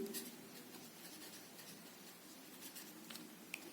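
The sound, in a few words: writing on a board during a chemistry lesson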